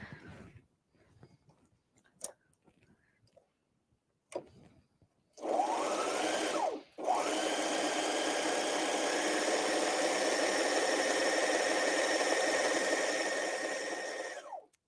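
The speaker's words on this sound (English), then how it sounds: "This serger is so quiet." A Brother Airflow 3000 serger runs steadily on a cardigan seam, a smooth continuous whir that starts after a few soft handling clicks, pauses briefly, then resumes and holds for about eight seconds before tapering off.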